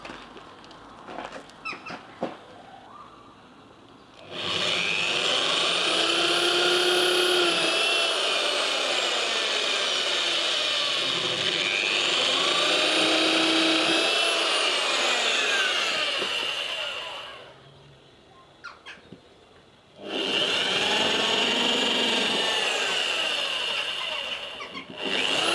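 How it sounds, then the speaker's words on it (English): Power drill boring into wood while fitting overhead storage in a self-built campervan bedroom, two long loud whining bursts with rising and falling pitch, separated by a short pause, after scattered quiet handling knocks. "So I'm just marking there because that's where I want to drill in between."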